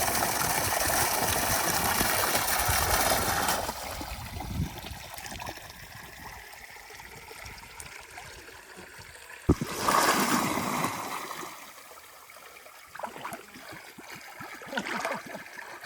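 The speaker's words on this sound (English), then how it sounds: "This is fresh spring water." Fresh spring water running in on a Portuguese mountain homestead, a steady rushing flow that is louder at first, then drops to a softer trickle with a few brief surges.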